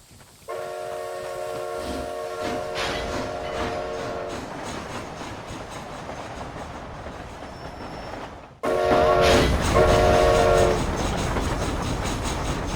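Train rolling along in Red Dead Redemption: Undead Nightmare, a steady rumbling clatter with repeated horn-like whistle tones near the start, then a sudden louder burst of wheel noise and whistle about two-thirds through, with no speech.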